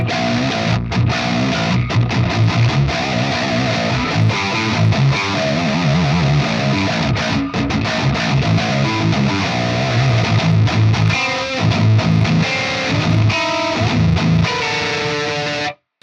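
Heavily distorted electric guitar, a Bacchus seven-string through an Axe-Fx III with a Djent cabinet IR, plays dense, chugging low riffs with palm-muted rhythms, loud and continuous, with no voices.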